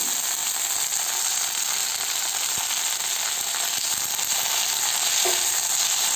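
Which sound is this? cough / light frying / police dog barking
light frying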